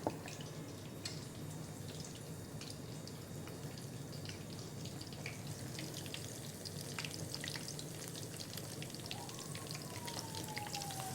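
Coated fish pieces fry in hot oil for a Lahori fried fish dish, giving a steady, dense sizzle with scattered crackling pops throughout, close and continuous with no talking.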